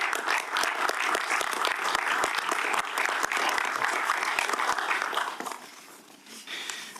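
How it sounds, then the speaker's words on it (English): Audience applauding after a speech at the Joint Parliamentary Scrutiny Group meeting on Europol in Nicosia: dense, sustained clapping from a roomful of people, steady for about five seconds before thinning out and fading. "I think this is the first time I see that intervention is applauded, and rightly so"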